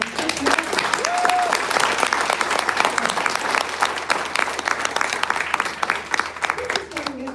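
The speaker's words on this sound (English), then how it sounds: "So, a big round of applause for the two amazing human beings, Brett Johnson and Chris Matthews." An audience at an Eagle Fest event applauds with dense, sustained clapping throughout, joined by a brief whistle and some crowd voices underneath.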